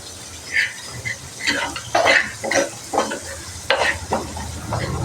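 Onions and chillies sautéing in a pan, with a steady sizzle under repeated scraping stirs of a utensil against the pan, close and moderately loud.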